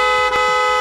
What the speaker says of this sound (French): Des klaxons d'énervement